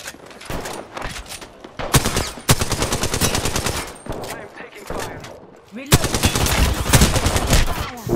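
Video game gunfire: bursts of rapid automatic shots, loud and close, come in several long volleys separated by short gaps, with excited voices talking over parts of the action.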